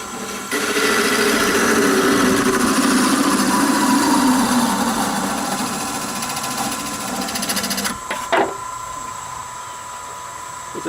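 A wood lathe spins a napkin ring blank as a tool parts it off, a steady close whirring drone with cutting hiss that drops in pitch and loudness near the end as the piece separates.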